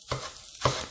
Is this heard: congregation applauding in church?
no